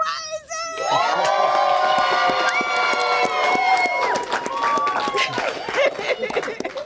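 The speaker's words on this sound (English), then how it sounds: "the crowd goes crazy" A live podcast audience erupts in loud cheering, shouts and whoops for a guest's entrance, a dense crowd roar sustained throughout with high excited voices rising above it.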